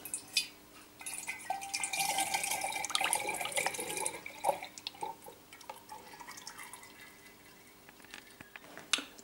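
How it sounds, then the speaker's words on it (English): Elderberry wine kit liquid pours from an opened tin through a funnel into a glass demijohn, a close trickling and dripping that runs steadily for a few seconds, then thins to scattered drips and quiet splashes. "I've opened the tin with the liquid in there, and pour it into the demijohn"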